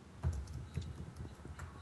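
Someone types on a computer keyboard during a Skype call, a quiet irregular run of soft key clicks with a few stronger taps near the start.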